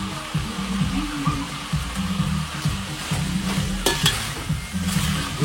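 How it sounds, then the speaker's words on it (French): Onions tossed into a wok with pork, frying with a steady sizzle and repeated rhythmic stirring scrapes and clatters of the utensil against the metal. "Oh, il ajoute les oignons."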